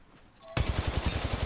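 Rapid automatic gunfire in the mobile video game Apex Legends Mobile, starting abruptly after a quiet moment and continuing as a loud, close, evenly pulsing burst.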